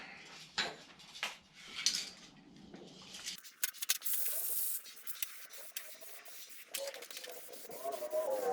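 An aerosol spray paint can lays a thick final coat on a Ducane BBQ grill, giving short hissing bursts and longer steady sprays up close, with faint handling clatter between passes.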